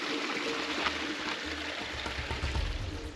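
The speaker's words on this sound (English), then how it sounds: "in the middle of the jungle, there are waterfalls" Jungle waterfall in Grenada, a steady broadband rush of falling water heard from a moderate distance, faint and continuous with no voices.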